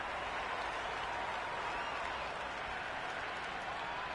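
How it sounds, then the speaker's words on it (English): A stadium crowd in a Cricket 26 match at Wankhede applauds and cheers in a dense, continuous wash of clapping and roar. It holds steady and fairly loud for the whole stretch, with no distinct voices. "There's an almost tangible fervour throughout the crowd at the moment."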